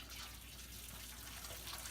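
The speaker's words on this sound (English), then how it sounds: "You can hear it kind of dripping and draining rather than having it cause problems." Sparge water trickling and dripping down through a bed of grain during all-grain brewing of a chocolate milk stout, a soft, steady wet patter with a low constant hum beneath it and no voices.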